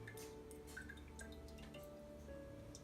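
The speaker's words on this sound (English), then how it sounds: "And it's still dripping a little bit, so I'm just going to let it keep going." Liquid from homemade sweet cream butter drips steadily in small, faint, irregular drops into a container, with no talking.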